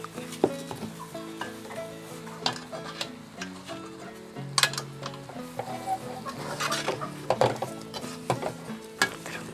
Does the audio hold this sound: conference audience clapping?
no